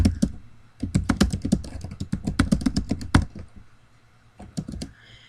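Computer keyboard typing in quick bursts of close, crisp keystrokes, a dense run for about three seconds, then a pause and a few scattered taps near the end; no voices.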